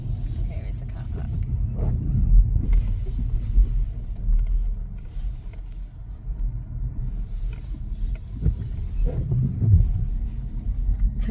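A car rolls slowly through a hotel car park at Albert Dock in Liverpool, a steady low engine rumble and tyre noise that swells and eases throughout, close to the microphone, with faint whispered voices.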